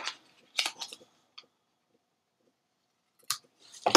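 Scissors snip at the corners of lightweight chipboard in a few short, crisp bursts, quiet and close, with pauses between cuts.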